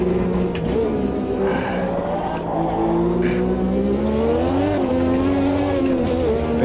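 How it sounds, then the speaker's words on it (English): A turbocharged race car engine in Automobilista 2 revs hard toward the red line in second gear, a loud continuous droning whine rising and falling in pitch, with no speech over it. "Being a little bit more dangerous with that turbo in second gear, taking the engine all the way to the red line"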